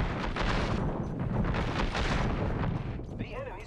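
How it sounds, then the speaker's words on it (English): Airstrike in Apex Legends, a rapid string of heavy booming explosions rumbling loud and dense for several seconds, with a voice talking over the end. "Airstrike on."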